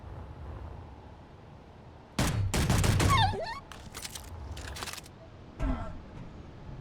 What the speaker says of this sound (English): That was like a sniper kill.